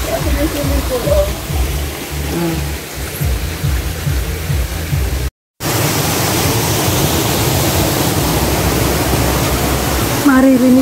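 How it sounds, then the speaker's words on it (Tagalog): Water rushes steadily beside a swimming pool at a KM90 resort in Infanta, Quezon, a broad loud hiss that swells after a brief gap, with people talking over it early on. "Maririnig mo ang lagaslas ng tubig."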